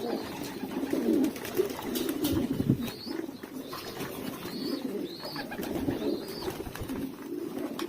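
Pigeons at a rooftop loft waiting for feed give low, repeated coos up close, with a few brief higher chirps and a light flutter of wings mixed in throughout.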